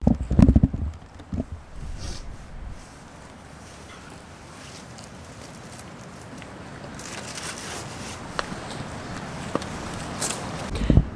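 Horses walk, their hooves clip-clopping in scattered steps, louder at the start and end, with quieter rustling and wind in between.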